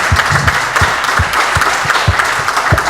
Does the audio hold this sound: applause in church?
yes